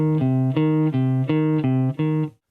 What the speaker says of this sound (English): you're making it into a minor third